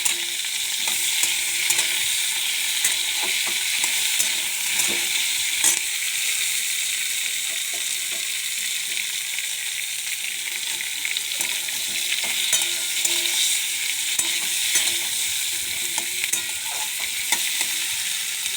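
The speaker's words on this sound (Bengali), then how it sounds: "টমেটোটা দিয়ে আরেকটুখানি ভাজা ভাজা হোক" Tomato frying in a pan with cauliflower and potatoes over bay leaf and cumin tempering gives a steady, close sizzle, with occasional stirring scrapes and clicks throughout, no voices.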